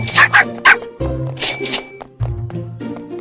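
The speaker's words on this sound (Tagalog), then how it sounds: "May aso." A dog in a video game barks and yips several times in quick bursts over background music with a steady electronic feel.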